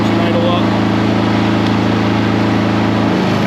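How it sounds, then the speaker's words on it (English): A Spimerica Palazanni TZX 730 73 ft compact tracked spider lift runs at a steady, loud mid-pitched idle with a tonal hum, and its engine note shifts as it idles up near the end. "Now you hear the engine idle up."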